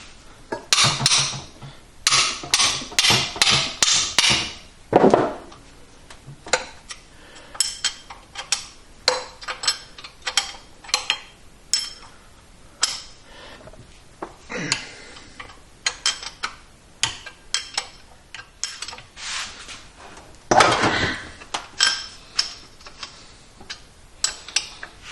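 Metal wrenching on loose engine cylinder base nuts, a rapid run of sharp ticks and clicks in bursts with short pauses, close and fairly loud, no talking.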